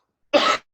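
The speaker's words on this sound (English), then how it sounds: "always try to cough in the middle, it shows naturalness" A single short, close cough, sharp and alone against silence, lasting well under a second.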